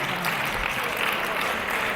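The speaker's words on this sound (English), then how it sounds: "a round of applause for that superb technical display there" A crowd at a British rounds wrestling match applauds a technical hold, with a dense, even burst of clapping while a commentator's voice talks over it.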